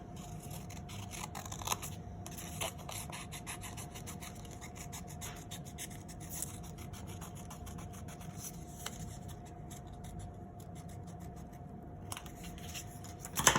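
Scissors snip and rustle through paper while cutting out a paper heart, with many small crisp cuts and paper handling noises close by over a faint steady hum, and no talking.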